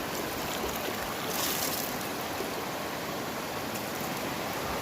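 River water pours and rushes steadily into a bamboo pot at the riverside, a continuous broadband gurgling wash that is fairly close but moderately soft, with no talk.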